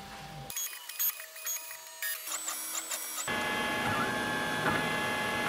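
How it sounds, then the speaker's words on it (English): A JellyBox 3D printer prints a first layer after a Z-probe offset change, its stepper motors whining in shifting tonal runs and steady mechanical whirring that builds to a continuous hum, close and alone. "Now we're going to print the same thing again, so that we can observe the first layer with the changed Z-probe offset."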